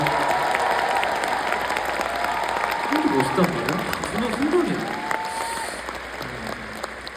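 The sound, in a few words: concert audience applause for the bass drummer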